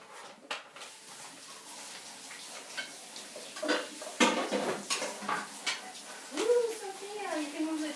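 Dishes and cutlery clatter and tick in a kitchen sink as a utensil is washed off after baking gluten-free Kaiser buns, with scattered clinks throughout and voices talking over the sounds.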